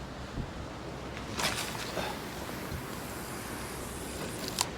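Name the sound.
wind blowing at the shore while bass fishing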